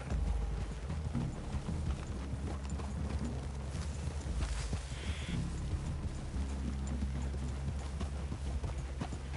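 Horse hooves clip-clop steadily in Red Dead Redemption 2, a continuous rhythmic plodding over low ambient rumble, moderately loud and near, with no talk over it.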